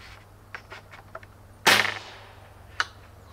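A real-life bow that shoots CDs, modeled on the Far Cry 6 weapon, fires with one sharp snapping crack, followed by a smaller click moments later amid faint handling noises.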